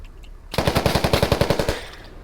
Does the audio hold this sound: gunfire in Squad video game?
yes